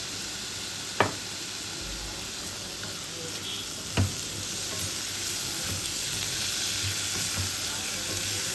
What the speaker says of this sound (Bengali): এবারে আমি দিয়ে দিচ্ছি কুচনো টমেটো, কুচনো কাঁচা লঙ্কা